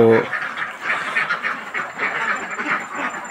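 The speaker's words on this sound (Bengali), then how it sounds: "আমার বাড়তি কিছু হাঁস ছিল আরেক সাইডে" A flock of ducks on a duck farm quacks continuously, many overlapping calls forming a dense, nearby chorus with no pauses, briefly preceded by a short voiced sound at the start.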